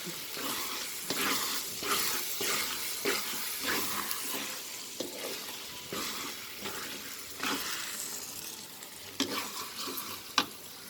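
Sticky Filipino biko rice cake is stirred in a pan, giving a continuous wet sizzling and scraping with repeated spoon strokes through the thick mixture, close and steady, with no talking.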